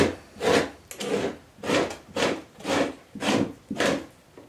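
A stretched beaver pelt, nailed up, is scraped in steady, rhythmic strokes, about seven loud, close rasping passes with short gaps between them and no talking.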